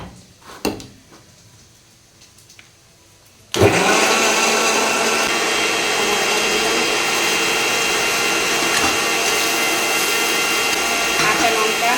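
An electric blender grinds ginger, garlic, green chilli and onion into a paste. It starts abruptly after a few seconds of light kitchen clatter and then roars loud and steady, without pause, to the end.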